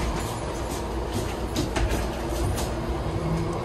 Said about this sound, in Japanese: 扉が閉まったんで列車出発するところですね